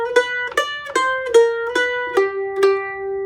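Mandolin plays the second half of the bluegrass Slidey lick. Seven close, bright plucked notes ring out in an even rhythm, some sliding in pitch, solo with no talking.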